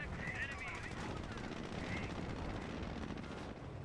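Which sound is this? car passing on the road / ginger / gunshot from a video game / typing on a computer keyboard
gunshot from a video game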